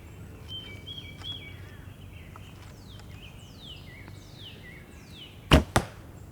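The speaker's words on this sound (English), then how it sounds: "let's take a few shots with my Southwest Archery Ghost takedown bow" A Southwest Archery Ghost takedown bow fires, giving two sharp, loud thwacks in quick succession near the end, with faint birdsong chirping in the quiet outdoor background.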